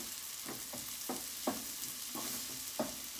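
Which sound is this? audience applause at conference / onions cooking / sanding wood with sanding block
onions cooking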